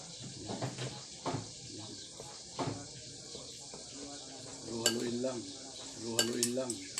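Food is stirred in a pan, with faint, sporadic scrapes and light metallic clinks of a utensil in a quiet kitchen and a soft voice in the background.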